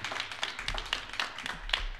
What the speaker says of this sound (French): on vous applaudit merci encore